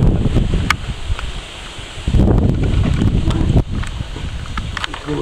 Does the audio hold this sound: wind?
yes